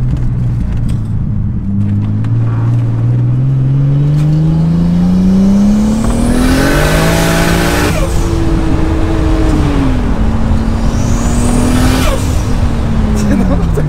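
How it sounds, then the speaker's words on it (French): A Toyota Supra MK4 with a turbo revs and accelerates loudly and continuously, its engine note climbing and falling, with sharp hissing turbo blow-off bursts as the throttle lifts, while muffled voices sit beneath the engine. "Oh, le bruit de la décharge de turbo."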